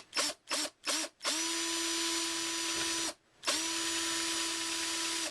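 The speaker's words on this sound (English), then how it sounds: "I'm going to put just barely the weight of the drill on it." A power drill bores into soft MDF while building a mini cocktail arcade cabinet, starting with three short whirring bursts, then running steadily and close for about two seconds, pausing briefly and resuming.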